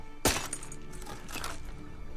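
A glass necklace is crushed in a TV drama scene, with one sharp, loud crack followed by lighter crunching and tinkling fragments before the sound fades into a quiet background.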